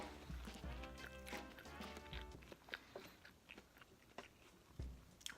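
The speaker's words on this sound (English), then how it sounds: "Do you hear the crunch?" Crunchy clumps of mashed potato chewed close up, a string of crisp bites and crunches in uneven bursts, with faint background noise and no talking.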